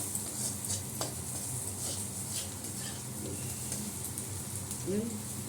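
Onions frying in oil in a pan, a soft steady sizzle with occasional stirring scrapes and utensil clinks, fairly quiet and continuous with faint room noise.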